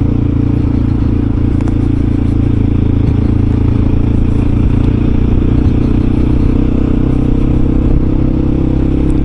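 A Mondial Rx3i Evo motorcycle accelerating, its engine a steady, loud, continuous drone throughout with a faint rising note and some rattle, close up and with no talking.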